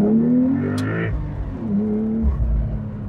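A 2026 Porsche 911 Carrera T with a manual gearbox blips its engine on a downshift, a short rising rev that settles back to a steady, close engine drone.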